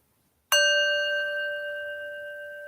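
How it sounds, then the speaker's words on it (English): A single meditation bell is tapped once, ringing out with a clear, sustained harmonic tone that slowly fades while still sounding, alone in a quiet room. "We do 4 taps of the bell to symbolize the 4 stages of Om."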